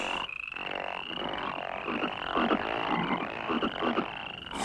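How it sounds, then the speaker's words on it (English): Frogs croak in a busy chorus, a steady run of raspy calls throughout, close and fairly loud over a constant high-pitched insect-like drone. "bring forth frogs!"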